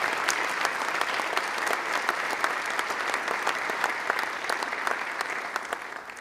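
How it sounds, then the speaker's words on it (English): A crowd at a school superintendents' launch event applauds a National Blue Ribbon Award, a continuous clatter of many hands clapping at moderate volume from start to finish with no voices over it. "I think it's worthy of some applause at this time."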